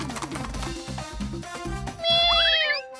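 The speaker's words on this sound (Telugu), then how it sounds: "పిల్లి అడ్డుగా వెళుతుందేంటి?" A cartoon cat gives a short, high, wavering meow near the end, following a bouncy stretch of music with low thumping beats.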